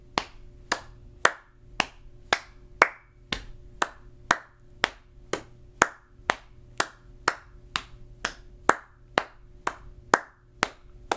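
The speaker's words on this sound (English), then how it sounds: "I'll do the claps and the pats" Hands clapping and patting a steady rhythm, about twenty sharp close strikes evenly spaced, alternating claps and softer pats, with no voices over them.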